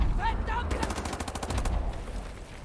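A rapid burst of automatic gunfire in Wolfenstein: The New Order rattles off as a quick evenly spaced string of shots in the middle, preceded by brief electronic tones and trailing into low rumble.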